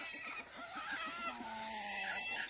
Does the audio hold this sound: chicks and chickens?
yes